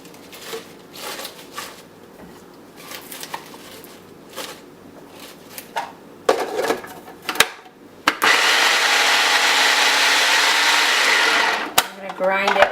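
A Jack LaLanne juicer grinds spinach for a raw pizza, a loud steady motor whir that runs unbroken for several seconds after scattered clunks of leaves being stuffed down, with a voice talking beforehand.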